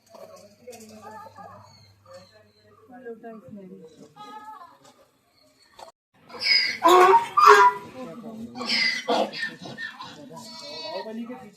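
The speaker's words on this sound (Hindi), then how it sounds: "बकरी" A goat bleats repeatedly and loudly, close by in an animal-keeping setting, its cries mixed with people talking, growing more insistent in the second half.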